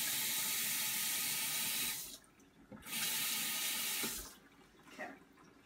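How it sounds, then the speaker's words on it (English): Tap water runs steadily into a sink as a gutted manini fish is rinsed out with fresh water, the stream pausing briefly twice before resuming, close and fairly loud with no talk. "So just quickly rinse it out with some fresh water to get all that"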